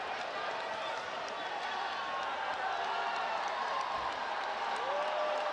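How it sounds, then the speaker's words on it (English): A velodrome crowd keeps cheering and applauding after the men's keirin final at a UCI Track Cycling World Cup, a dense sustained roar under a commentator's voice. "The crowd has not stopped cheering, still on their feet here in Milai."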